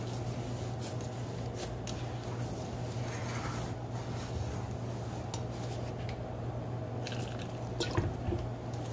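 Water is poured into flour for sopes dough, giving a faint trickling and dripping sound with occasional soft clinks of a bowl over a steady low electrical hum.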